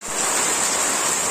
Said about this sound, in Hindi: तो बारिश देखो तो इतना बारिश आ रहा है